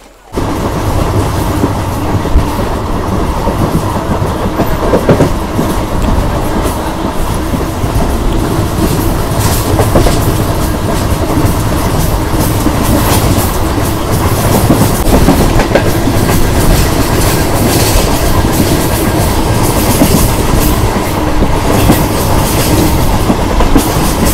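A passenger train rolls steadily along the rails, a continuous loud rumble with rhythmic clickety-clack of wheels over track joints, with no voices.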